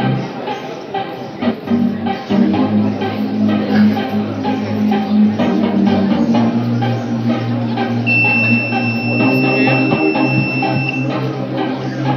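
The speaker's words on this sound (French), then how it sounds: "Lorsqu'il y a une présence de la flamme, on a un buzzer qui retentit." Steady electronic buzzer of a homemade flame-detection circuit sounds continuously, a sustained tone that runs under someone talking and a low background hum in a presentation setting.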